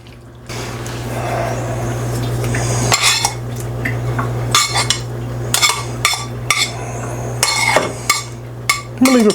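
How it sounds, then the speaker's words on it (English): A utensil quickly mixing Alfredo sauce in a pot, with repeated clinks and scrapes of metal against the pan over a steady low hum, close and fairly loud. "we're just gonna give this a quick mix"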